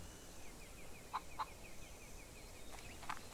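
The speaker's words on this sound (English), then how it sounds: "There's chickens running around here." Chickens in the farm video game Barn Finders, with a few short clucks at separate moments standing out faintly above a steady low background ambience.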